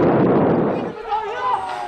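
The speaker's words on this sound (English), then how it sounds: "Overnight, a thunderous explosion lights up the sky." A thunderous night-time explosion in Gaza: a loud, broad rumbling blast that fades into a lower roar, with a faint rising tone heard near the end.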